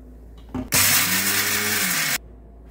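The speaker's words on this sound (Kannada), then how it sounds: "ಮಿಕ್ಸಿಗೆ ಹಾಕೊಂಡು ಪೌಡರ್ ಮಾಡ್ಕೊಳ್ಳೋಣ" A kitchen mixer grinder powders roasted peanuts (groundnuts) in one loud, steady burst of about a second and a half, starting abruptly after a brief click and cutting off sharply, with a faint hum before and after.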